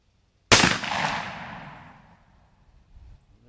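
A single loud, close gunshot from a revolver or lever rifle firing .45 Long Colt ammunition cracks sharply and then rings away in a long fading echo outdoors, with no talk.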